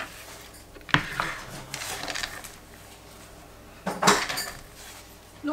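Shredded cabbage for a salad is mixed in a bowl, with two sharp clattering knocks of utensils against the bowl and soft rustling scrapes between them.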